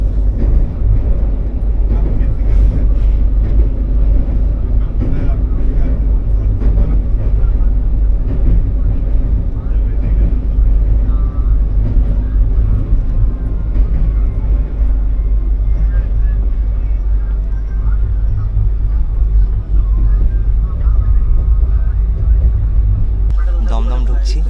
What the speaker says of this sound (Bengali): ট্রেনটা সবে বালি হল্ট পেরিয়ে এসে বালির ব্রিজের দিকে ঢুকছে।